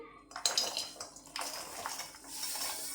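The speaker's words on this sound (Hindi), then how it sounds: "कढ़ाई में सारा गुड़ ऐड कर देंगे।" Jaggery is tipped into a kadhai on a gas stove for peanut laddoos, making a quick clatter and scraping rattle of lumps against metal in a short, busy burst.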